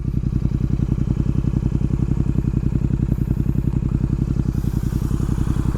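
A Royal Enfield GT650 twin-cylinder motorcycle engine idles steadily at close range, a fast even pulsing thump with a faint mechanical clatter running on throughout, never revved.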